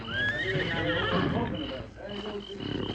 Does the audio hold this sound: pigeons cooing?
no